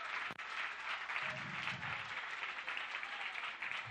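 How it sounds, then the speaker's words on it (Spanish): A church congregation applauds in praise of the Lord during a sermon, a soft, steady patter of many hands heard from a distance. "¿cuánto le damos un aplauso de alabanza al Señor?"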